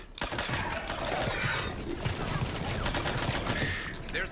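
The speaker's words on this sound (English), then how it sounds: "There's the artillery." Heavy artillery and gunfire in the Mass Effect 3 Legendary Edition video game, a continuous dense barrage of booming blasts and rattling shots, loud and close throughout, with voices partly buried beneath the battle.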